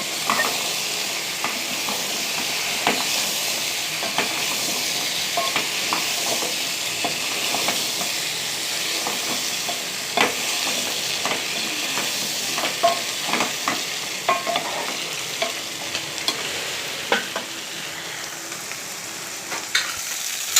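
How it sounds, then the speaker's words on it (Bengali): Hilsa fish curry with taro and eggplant being stir-fried in a pan, a steady close sizzle with frequent scraping and stirring clicks throughout, no voices. "ভালোভাবে কষে নেব বন্ধুরা"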